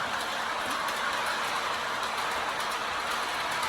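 A Lionel model train runs steadily on its track in a garage, a continuous close rolling rush with faint clicking, alone without talk.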